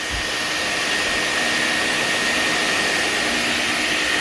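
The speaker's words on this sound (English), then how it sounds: "We'll go ahead and turn the vacuum off since I don't need it no more" A loud, steady motor whine with a broad rushing roar and a high tonal hum, running continuously without any change.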